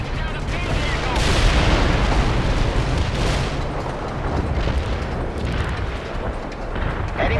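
Laser-guided bombs explode in the real-time strategy game World in Conflict, a loud sustained barrage of deep booms and rumbling blasts rolling together, with faint radio chatter underneath.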